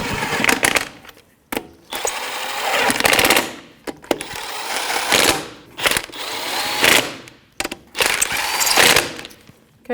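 A power tool with a 19mm socket snugs up wheel lug nuts on a 2007-2017 Jeep Patriot, loud repeated ratcheting bursts of rapid mechanical rattling separated by short pauses.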